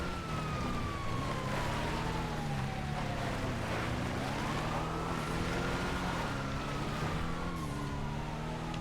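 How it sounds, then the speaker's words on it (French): Police sirens wailing in a video game, two rising and falling tones overlapping over a steady engine rumble, moderately loud and continuous. "Ouais, il y a deux sirènes. Ils vont arriver sur notre gauche."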